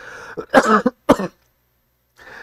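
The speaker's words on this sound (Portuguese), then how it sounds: "Deixa eu tossir aqui que eu me engasguei." Two sharp, close coughs in a row, a brief pause between them, then quiet before a faint breath or murmur at the end.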